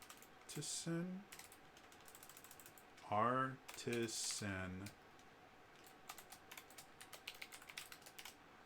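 Light, quick computer keyboard typing sits faintly in the background, a patter of small clicks that follows a stretch of speech near the start and continues alone toward the end.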